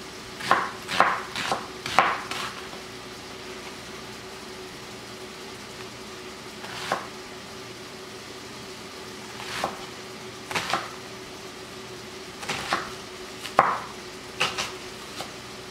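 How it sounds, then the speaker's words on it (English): A knife rough-chops vegetables on a cutting board for homemade beef chili: a quick cluster of sharp thuds, then sparse single chops spaced out over a quiet kitchen hum. "So it's a rough chop."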